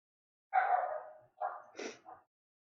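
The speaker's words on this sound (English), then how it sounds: "Excuse the dogs. Background." Several dogs bark in the background: one long, rough burst, then three shorter barks in quick succession, moderately loud and with no talk over them.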